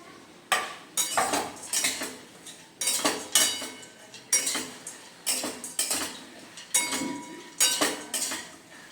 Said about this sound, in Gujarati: સતત હલાવતા જઈને થોડી વાર આપણે શેકી લઈશું.